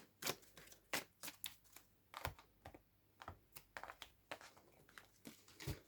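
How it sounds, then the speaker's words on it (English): Tarot cards being shuffled, with quiet irregular flicks and soft taps arriving in quick bursts close by, no talking. "I'm going to shuffle again."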